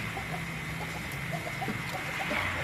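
A Satria Sinekti fighting rooster gives a run of soft, quick clucks. The sound is fairly faint and heard alone, with no voices.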